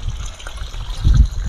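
Water gushes strongly out of a solar submersible pump on a two-hectare calamansi farm, a loud continuous rushing splash heard up close outdoors.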